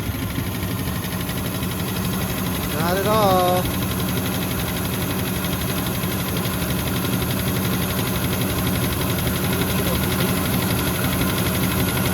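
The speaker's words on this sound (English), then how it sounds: "Oh, those lifters don't sound happy." An old jet-age barn-find engine idles roughly with noisy, tapping lifters and hydraulic oil in its exhaust, a steady mechanical drone throughout while someone speaks briefly over it.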